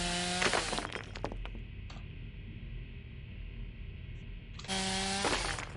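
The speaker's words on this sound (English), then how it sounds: "Still got my chainsaw." A chainsaw weapon in the video game Cogmind whirs in a steady, loud mechanical buzz, with harsher grinding bursts at the start and again near the end, and no talking.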